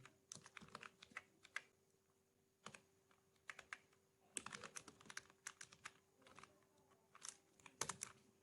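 A computer keyboard clatters in quiet, irregular bursts of keystrokes with short pauses between them, close but faint, with a low steady hum behind and no talk.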